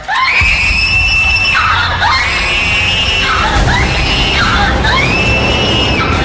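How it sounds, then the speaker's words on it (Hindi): A woman screams loudly and repeatedly in long, shrill, wavering cries, close and intense. "उनको जोर जोर से चीखने की आवाजें आई"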